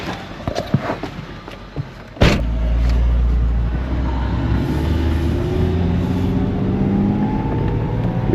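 A BMW 128i under restoration sets off on a test drive. Some clicks and handling noises come first, then a sharp thump, followed by a steady, fairly loud engine drone and road rumble from inside the car, with no talking.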